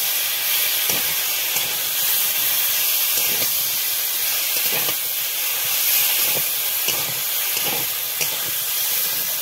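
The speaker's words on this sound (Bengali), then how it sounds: "এই যে মশলাটা দিয়ে এখন ভালো করে কষিয়ে নেবো আবারও।" Spice masala fries in a pan for a flat bean curry, giving a loud, steady hiss and sizzle with periodic stirring scrapes and no speech.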